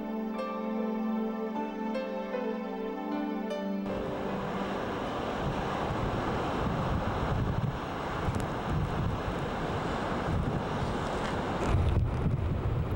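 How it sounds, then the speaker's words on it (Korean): Rough winter sea waves and strong wind batter a seaweed island, a loud roaring wash with heavy wind buffeting the microphone, following a few seconds of soft music. "파도는 더욱 거세졌습니다"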